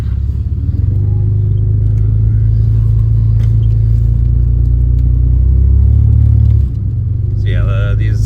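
1986 Mercury Cougar with a 3.8L V6 idling, a steady low rumble with a deep hum that shifts briefly before the engine settles, close and loud, with a voice starting near the end.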